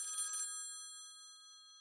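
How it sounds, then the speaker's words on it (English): A small Nokia mobile phone rings briefly with a bright electronic tone, then stops and leaves a faint lingering high tone in a quiet room. "Suddenly I heard a phone call coming from the kitchen."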